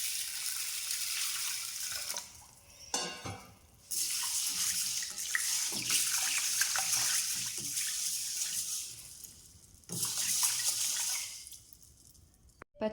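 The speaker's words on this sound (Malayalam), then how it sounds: "ഇത് നന്നായിട്ടൊന്ന് വെള്ളമൊക്കെ ഒഴിച്ചിട്ട് 1-2 പ്രാവശ്യം കഴുകിയെടുക്കുക." Raw rice, green gram and fenugreek are washed under running water, with a loud splashing stream that pauses briefly twice and then resumes, along with swishing and a few small clatters near the end.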